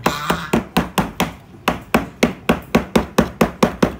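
Steady, evenly spaced hammer blows on wood, about four per second, sharp and close with short decays, continuing without talk over a few seconds.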